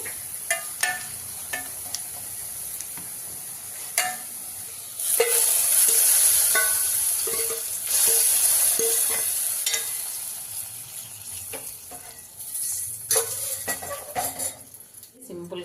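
Dal tempering hissing in hot oil as asafoetida goes in, a loud sustained sizzle swelling midway with spoon taps and stirring scrapes, easing off toward the end.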